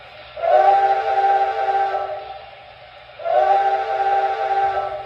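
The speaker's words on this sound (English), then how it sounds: "Let's go ahead and hear the whistle from the old model." An older MTH model steam locomotive whistle sounds two steady, harmonic blasts, each lasting a few seconds, with a short pause between them.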